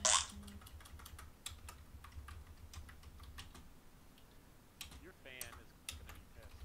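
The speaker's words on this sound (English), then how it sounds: "Gotta type it in again." Computer keyboard typing while entering settings for the Pro Strategy Football 2021 board game software, with quick irregular key clicks throughout, a few louder taps and faint voices in the background.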